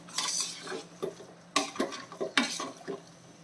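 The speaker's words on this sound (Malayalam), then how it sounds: "ഇതിപ്പോൾ ഞാൻ ലോ ഫ്ലെയിം കുറച്ച് വെച്ചിട്ട് നല്ല രീതിയിൽ വഴറ്റിയെടുത്താണ് കേട്ടോ." Masala with ginger, garlic and onion is stirred in a pan over a low flame, with a spoon scraping and clinking against the pan in several separate bursts and a faint sizzle underneath, close and fairly quiet.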